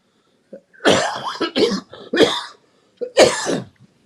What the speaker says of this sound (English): this fucking cough won't go